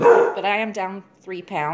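A dog barks and yips briefly in the background of a home kitchen, its short calls overlapping someone talking close by.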